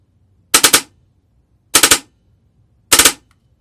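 Wolverine Evolution airsoft gun firing three short, sharp bursts of about three rounds each, evenly spaced with silence between, close and loud.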